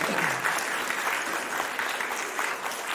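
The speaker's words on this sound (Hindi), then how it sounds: "तो इसलिए एक सब लोग मिलके जोरदार तालियां अपने लिए बजाएं।" Loud, steady applause from an audience at a school speech competition, dense clapping sustained throughout with no breaks.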